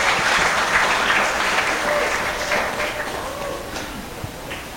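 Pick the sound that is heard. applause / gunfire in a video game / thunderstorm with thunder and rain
applause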